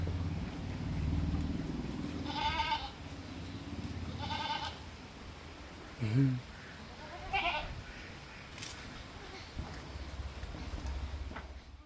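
Goats bleat several times, spaced a couple of seconds apart, some higher and some lower, over a steady low rumbling background.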